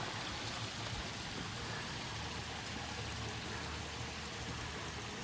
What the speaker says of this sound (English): stream and waterfall there.